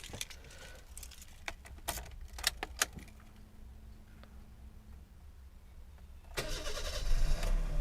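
A first-generation Toyota Avanza: keys jangle in the ignition, a quick crank, then the engine catches promptly and settles into a mid-pitched idle, close and alone without talk.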